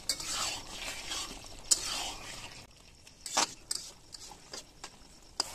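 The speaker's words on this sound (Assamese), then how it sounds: "অকমান পানীৰে এই বিলাহীখিনি মাংসৰ লগত মিক্স কৰি দিম" A spoon stirs tomatoes with chicken meat and a little water in a pan, giving soft scraping, sizzling strokes followed by a few sharp clinks of utensil on metal, with quiet gaps between them.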